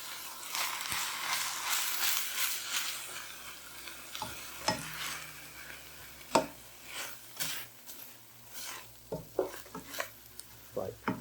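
A spoon stirs tomato paste and tomato sauce into Cajun chicken sizzling in a pan, giving a steady fry hiss with scraping strokes and occasional knocks against the pan.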